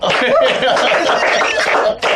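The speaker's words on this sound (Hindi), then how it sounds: "जोरदार तालियां।" Studio applause on a Red FM radio prank-call show, a dense burst of clapping mixed with laughter and chuckles, loud and close for about two seconds before cutting off.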